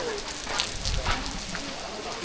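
Heavy, wind-driven rain by the sea pours down in a constant broadband hiss, fairly close, with a brief low bump near the middle.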